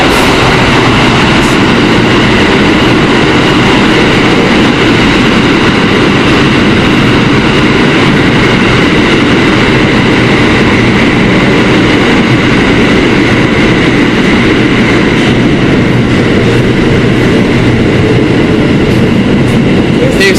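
Loud, continuous rumble and roar of a Kawasaki R160B Q subway train in motion under New York, heard from inside the car, with steady wheel and track noise throughout and no talking.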